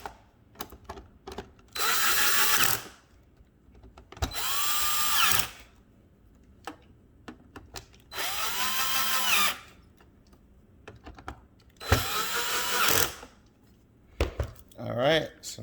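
A power drill drives screws into an iRobot Roomba cleaning head module in four loud, close bursts of whirring, each a second or so long, with quiet clicks and handling between them and a short squeal at the end.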